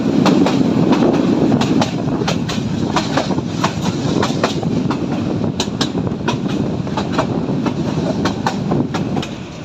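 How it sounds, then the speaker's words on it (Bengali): A local commuter train on the Rangpur–Lalmonirhat line in Bangladesh pulls out of a station. A loud, continuous rumble with repeated clickety-clack wheel beats runs close by throughout, with no talk. "এখন ট্রেন ছাড়বে।"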